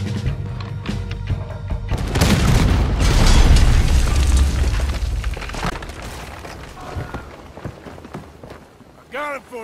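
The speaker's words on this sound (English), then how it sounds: "There's another cannon up ahead on our left." Cannon fire and gunfight in the Red Dead Redemption 2 video game, a dense run of loud booms and crashing impacts over a couple of seconds, with continuous rumbling action, music and voices underneath.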